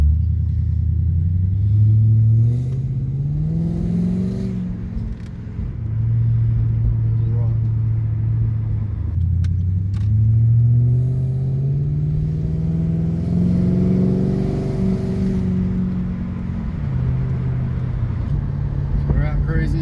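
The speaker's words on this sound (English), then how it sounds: "we're going for a drive in the XR8" Ford XR8 V8 car with an aftermarket intake, driving on wet roads, its engine rumbling continuously and rising and falling in pitch as it revs, heard from inside the car.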